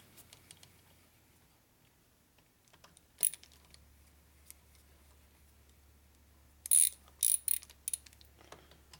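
Bolts are started on a Harley S&S 113ci Evo motor, giving scattered metallic ratchet clicks and brief bursts of tool sound close by, separated by quiet pauses.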